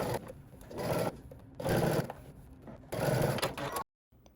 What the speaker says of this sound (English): we're going to head to the sewing machine and we're going to stitch all the way around